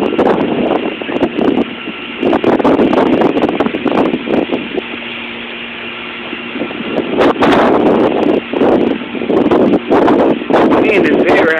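Strong wind ahead of a tornado roars across the microphone and through trees in Byhalia, Mississippi, a loud buffeting gusty rush lasting throughout, with a person speaking over it.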